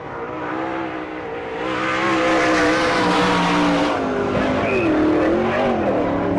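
A sprint car on a qualifying lap at a dirt speedway in Mercer, Pennsylvania, roars past with rising and falling engine revs and tire squeal, loud and close, swelling as it approaches.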